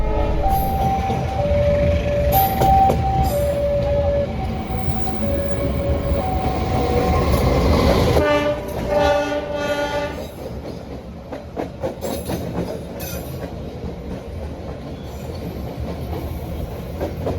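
A passenger train arrives at Solo station, a low steady roar with tonal squeals and clattering wheels, then slows with brake hiss and rhythmic clacks.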